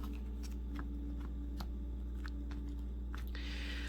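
Tarot cards being shuffled close up, a series of crisp light clicks and riffling snaps at uneven intervals over a steady low hum, ending in a brief soft whoosh; no one speaks.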